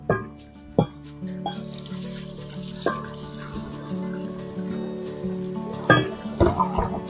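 Water runs from a tap into a sink as pieces of winter melon are rinsed several times in cold water, a steady splashing wash with a few sharper clatters, close by and with no talking.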